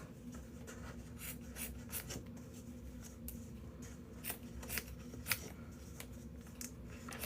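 Scissors snip off excess material at the end of a craft session. The quiet, sharp cutting and rustling clicks repeat irregularly over a faint room hum, and nobody speaks.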